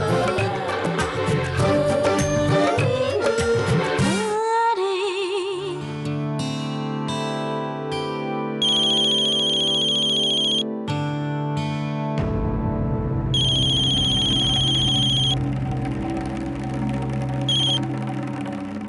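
A phone rings in a Telugu TV drama scene, electronic melodic tones and repeated bright beeping phrases sounding alone for about nineteen seconds.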